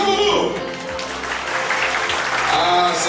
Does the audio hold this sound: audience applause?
yes